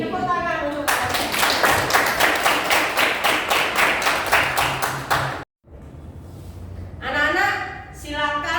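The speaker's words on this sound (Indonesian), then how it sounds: "tepuk tangan untuk kalian." Students in an Indonesian-language classroom lesson clap their hands together in a quick, even rhythmic run of sharp claps, then stop; after a short quiet gap, a teacher's voice comes in.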